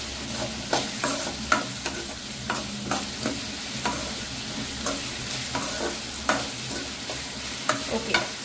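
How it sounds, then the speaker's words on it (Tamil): Onions sautéing with salt in a pan for a fish curry, a steady sizzle broken by regular spoon scrapes and clinks against the pan, close and moderately loud, with no talking. "சால்ட் போட்டு வதக்கணும்னா சீக்கிரமா வதங்கிடும் ஆனியன்"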